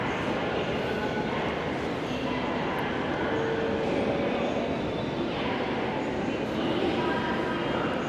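A passenger train rumbles steadily nearby, a continuous broad roar of wheels and carriage noise with a faint knock or two, and the rumble stays even from start to finish.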